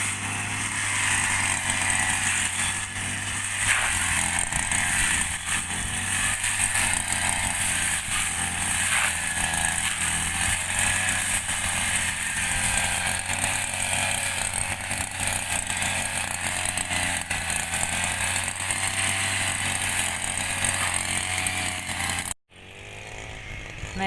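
A small two-stroke bladed brush cutter used for cutting rice plants runs continuously nearby with a steady buzzing drone, cutting off abruptly near the end.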